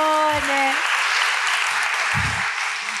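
Audience applause at an Italian book talk, a dense broadband wash of clapping held steady throughout, loud and sustained, with a few low murmurs and a brief tonal voice-like sound near the start.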